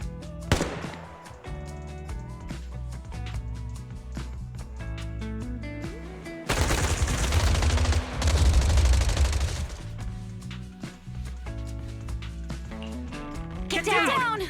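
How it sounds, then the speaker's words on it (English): Suppressive marching fire in the video game Zenless Zone Zero, a dense burst of rapid gunfire erupting over a tense musical score, with booming shots in the middle and another short volley at the end. "Gunfire? This pattern. Suppressive marching fire."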